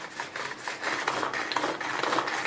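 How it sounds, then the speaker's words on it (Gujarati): An electric grinder crushes spices for a papad snack, giving a loud, continuous rasping churn with uneven rubbing surges and no talk over it. "આ રીતે આપણે કટરમાં ક્રશ કરીએ છીએ"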